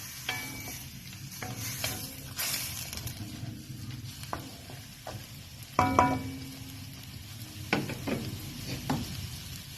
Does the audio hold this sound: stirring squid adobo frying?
yes